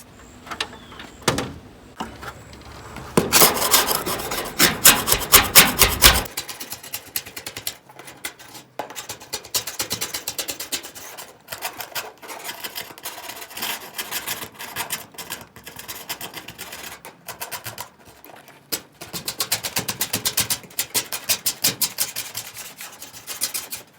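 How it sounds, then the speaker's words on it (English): 120-grit sandpaper scrubs rough, rusty ledges on a van roof in repeated rasping strokes, with loud fast bursts, quieter stretches and pauses between passes, heard close up with no talk. "We're gonna put some probably 120 on there at first, and we're just gonna go around and sand all those ledges"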